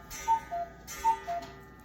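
Cuckoo clock ticking in a quiet meeting room, crisp paired tick-tock beats at a steady, even rhythm, fairly close and moderately loud, with no voices.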